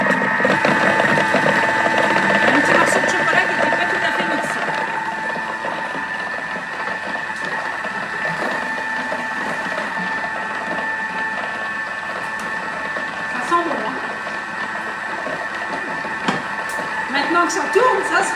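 A Thermomix blends chocolate with icing sugar at speed 4, giving off a steady mechanical whir and hum that runs unbroken throughout, close and fairly loud, with a person talking over it.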